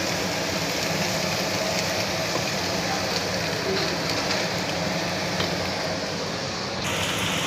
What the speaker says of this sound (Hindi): यहाँ पे देखें अभी प्याज जो है मेरा ब्राउन होता जा रहा है।